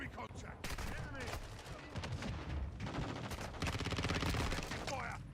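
Gunfire in a video game firefight: fast, continuous volleys of shots build into a dense automatic rattle, with a voice shouting over the shooting.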